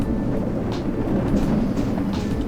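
In the Theme Park Tycoon 2 video game, an orange roller coaster train rattles up a chain lift and crests the top, giving a steady mechanical rumble with faint clacking and no talk.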